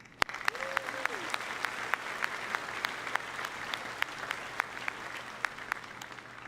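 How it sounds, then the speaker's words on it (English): A graduation audience applauds the high school music department with sustained, dense clapping from a large crowd, steady and even throughout, with a brief vocal sound near the start. "let's also give a massive round of applause to our music department for being here"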